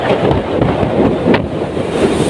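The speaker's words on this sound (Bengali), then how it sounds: "দেখতেই পারতেছেন খুবই ঢেউ, বাতাস" Loud, constant rush of wind and crashing sea waves aboard a ship in the Bay of Bengal during a storm, buffeting the microphone with a roaring, broadband noise throughout.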